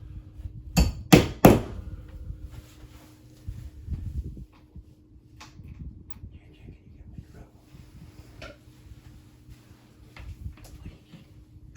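A few sharp hammer blows close by early on, driving nails into a wall to hang a wire shelf, followed by quieter tapping and handling noises against a low background hum.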